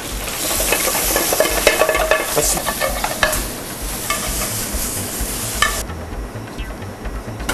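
Loud, steady sizzling of greens and garlic frying in a hot pan, with stirring scrapes; the hiss drops off sharply near the end.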